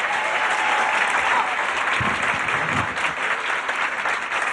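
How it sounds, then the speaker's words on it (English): A studio audience applauds a comedian on a 1980s stand-up TV show, a steady dense clapping that carries loud and unbroken from start to finish. "Let's have a nice round of applause"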